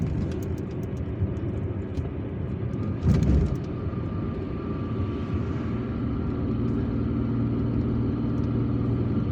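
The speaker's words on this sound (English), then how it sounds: "And now let's drive straight on to go back to Madania." A car drives through the streets of Algiers, a steady engine and road rumble held close and constant throughout, with one brief louder burst partway through and no talking.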